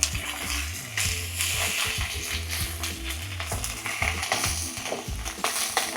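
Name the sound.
fish frying in a pan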